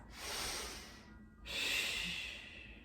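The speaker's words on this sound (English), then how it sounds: "One more breath." Two deep, close breaths during a Pilates stretch with a mini ball: a long airy exhale, a brief pause, then another full hissing breath.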